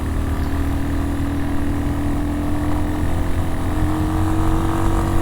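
A small 200cc motorcycle climbing a mixed-surface mountain road in Colombia, its engine held at a loud, steady high-revving drone close to the rider, with no talk.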